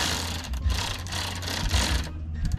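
Power tool driving screws into a plastic mesh grille on a 2007-2014 Chevy Tahoe, a close whirring, buzzing burst in short pulses with brief pauses, no talk.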